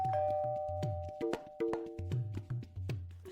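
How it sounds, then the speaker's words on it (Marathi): A doorbell sounds a series of quick tonal chimes, repeated several times in a short uneven rhythm, fairly faint and clear of talk. "अरे कधीची बेल वाजते"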